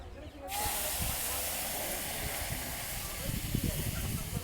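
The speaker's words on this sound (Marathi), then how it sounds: "याच्यामध्ये दूध टाकून घेऊ" Milk poured into a hot pan of roasted rice while making rice kheer gives a sudden loud hiss that stays broad and steady, with faint bubbling toward the end.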